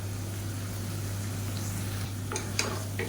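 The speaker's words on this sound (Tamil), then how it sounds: "இந்த பேஸ்ட்டை வந்து சேர்த்துக்கலாம் சேர்த்துட்டு நல்லா வதக்கி விட்டுக்கலாம்" Potato and soya chunks sautéing with ground coconut paste in a pan, a low continuous sizzle under a steady hum, with a few short spoon scrapes near the end, close and quiet.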